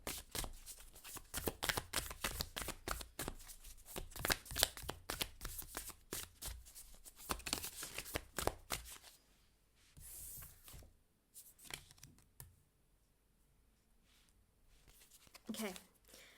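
Tarot cards being shuffled and handled during a reading, brisk riffling and snapping in close bursts for the first half, then sparser card slaps and rustles, with a voice talking throughout.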